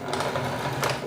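A sewing machine stitches a fabric bag, running forward a few stitches and then backward a few, a steady close mechanical whir with short bursts of rapid needle clatter.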